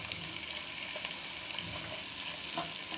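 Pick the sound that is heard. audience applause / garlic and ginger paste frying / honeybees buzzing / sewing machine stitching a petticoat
garlic and ginger paste frying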